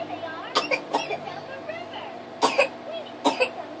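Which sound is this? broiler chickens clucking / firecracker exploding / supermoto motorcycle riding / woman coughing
woman coughing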